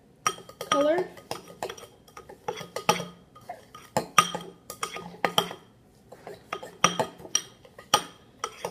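A spoon stirs a homemade hand and lip scrub mixture in a bowl, giving quick, irregular scraping clinks of utensil against the bowl, close and fairly loud throughout.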